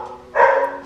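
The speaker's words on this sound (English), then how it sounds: "Why is he barking?" A dog lets out a single short, loud bark close by in a home.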